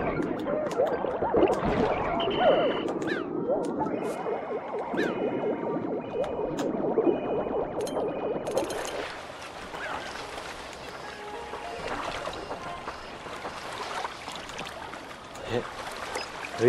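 Water trickles and splashes in the Pikmin 4 video game beach area, soft flowing sounds mixed with game effects and beeps, while a person talks over the first half.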